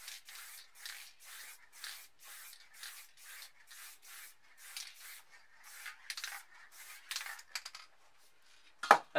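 White spray paint mists from an aerosol can in a quick series of short, soft hissing bursts, faint and close, with a sharper rattle at the end.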